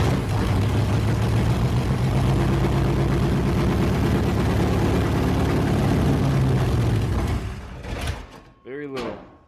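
A car engine cranks steadily for about seven seconds with its ignition wire pulled from the distributor, a loud rhythmic churning that fails to catch, then cuts off and leaves brief mechanical clunks and a squeak.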